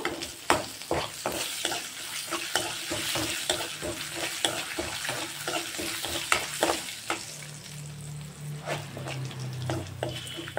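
Asafoetida goes into hot oil with fried curry leaves for vankaya tomato pachadi. A steady close sizzle runs throughout, broken by repeated scraping stirs in the pan, and a low hum is heard toward the end.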